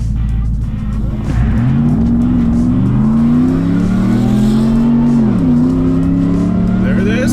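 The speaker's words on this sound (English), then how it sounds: "I'm gonna do a 0 to 60 in 2-wheel drive and see if I can get a quicker time." A supercharged first-generation pickup truck accelerating hard from 0 to 60 in two-wheel drive, its engine note climbing steadily through the gears with a brief dip at a shift, loud and close with some tire noise.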